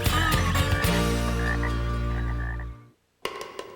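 A cartoon frog lets out one loud, drawn-out croak with a rich buzzing tone that holds for nearly three seconds before stopping, then a short burst of other sound follows.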